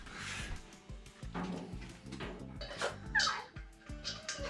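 A small dog yips, whimpers and barks excitedly in short bursts around a camper trailer, with faint background voices and rustling.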